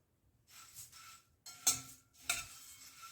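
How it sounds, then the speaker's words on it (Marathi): Puffed rice being stirred and roasted over low flame in a kadhai, soft scraping swishes with a few sharper clinks of the spatula, quiet and close. "आता आपल्याला कढईमध्ये हे चुरमुरे घालायचेत आणि चांगले भाजून घ्यायचे आहेत"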